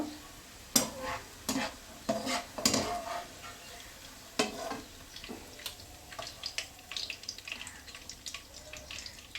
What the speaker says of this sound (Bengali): আমি পেঁয়াজটা বেরেস্তা করে নিব